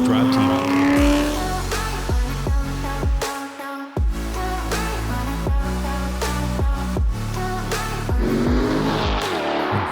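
A Chevrolet C7 Corvette driven hard, its engine revving up through repeated gear shifts with sharp cuts between them, loud and close, with a brief tire squeal and music faintly underneath.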